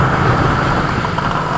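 Dense road traffic surrounds a rider on a 2020 Royal Enfield Meteor 350, a loud continuous roar of engines and wind-blown rush, close and steady for the short stretch.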